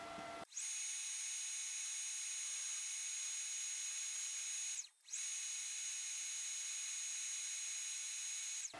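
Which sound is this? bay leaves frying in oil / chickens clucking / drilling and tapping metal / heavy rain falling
drilling and tapping metal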